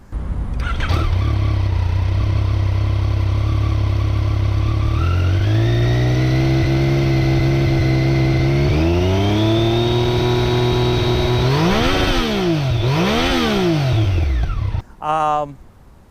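A Yamaha XSR900 crossplane three-cylinder motorcycle engine idles low, then revs up in rising stages, blips sharply twice, and cuts off with a brief rattle at the end.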